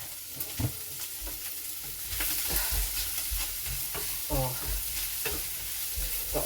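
Bacon and asparagus fry in a pan for an omelette, giving a steady close sizzle with scraping stir strokes and clacks that grow louder partway through. No one speaks.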